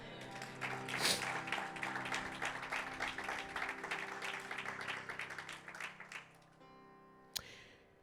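A church congregation applauds during a French-language sermon, a dense wash of many hands clapping for several seconds before thinning out and fading near the end, followed by a single sharp knock.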